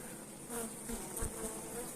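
Honey bees buzz steadily close by, a dense droning hum with individual bees passing near.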